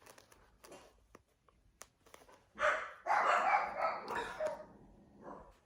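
Several dogs bark loudly and in bursts at close range, following a stretch of quiet rustling and faint tapping from hand-sewing junk journal signatures with a needle.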